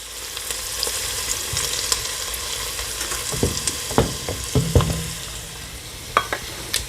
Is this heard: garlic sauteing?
yes